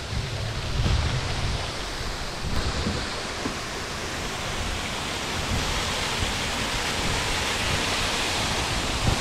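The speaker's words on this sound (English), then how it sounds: "There's Red Waterfall." Red Waterfall beside the GAP bike trail between Pittsburgh and Cumberland, a broad steady rush of falling water heard up close, continuous and fairly loud with no voices.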